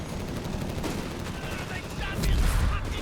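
Mortar rounds and gunfire thud in Company of Heroes 3, a dense rumble of battle with a heavier low blast near the end, under faint background voice.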